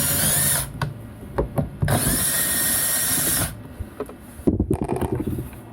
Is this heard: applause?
no